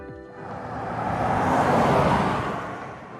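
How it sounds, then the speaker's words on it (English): A car engine sound played through a modified copier's speaker swells up from a low start, building to a loud broad roar and easing slightly, with a faint tonal whine early on. "But why the car sound?"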